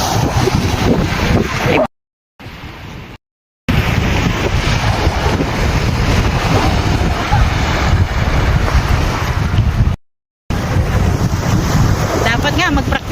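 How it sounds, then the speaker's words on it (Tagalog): Strong wind at sea beside a boat in a rural province, roaring and buffeting the microphone with waves washing underneath, loud and continuous apart from brief dropouts. "Lakas ng hangin, guys."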